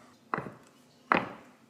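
A knife cuts through a log of chak-chak dough on a wooden board, giving two soft, separate chopping thuds close by in an otherwise quiet room.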